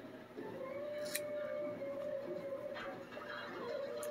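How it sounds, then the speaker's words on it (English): A few soft, brief snips of scissors cutting reborn doll hair off a bundle, faint and close against a quiet room hum. "I just take my hair and I cut it off the bundle."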